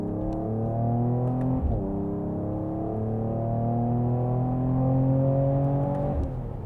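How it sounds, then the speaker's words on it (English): A 2022 Mercedes E53 AMG S coupe engine heard from inside, with a steady, droning tone that climbs smoothly between sharp breaks as quick gearshifts land, two of them in a few seconds, with no one talking. "Downshift again, I love how quick those shifts are."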